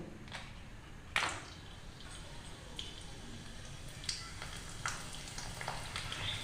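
Tomato papad dropped one by one into hot oil, a low continuous sizzle broken by a few sharp crackles and pops, fairly quiet and close.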